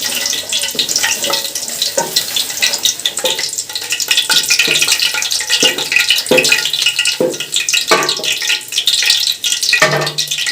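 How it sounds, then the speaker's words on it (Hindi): Cumin seeds sizzling in hot ghee for kadhi pakora: a steady, loud frying hiss throughout, broken by repeated scraping stir strokes. "घी अच्छे से गर्म हो चुका है"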